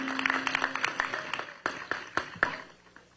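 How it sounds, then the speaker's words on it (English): Scattered crowd applause at an outdoor welcome event in Las Vegas, individual claps standing out sharply and irregularly, with a brief tone early on, thinning toward the end. "So yes, another round of applause."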